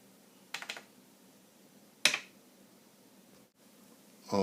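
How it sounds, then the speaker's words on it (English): A few soft tapping hits on the drum pads of an MV sampler, a quick cluster followed by a single sharper strike, with a louder sound starting at the end. "you can hear how I'm kind of hitting the pads"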